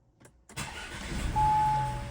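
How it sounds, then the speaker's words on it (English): An Audi B9 with a freshly replaced battery cranks briefly and fires up, the engine catching and settling into a steady close idle, no voices. "Car starts right up."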